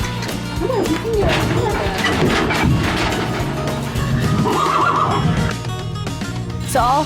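Horses whinny loudly over busy commotion and people talking while a herd of 53 rescued horses is loaded into a trailer, with clattering knocks and shifting hooves throughout.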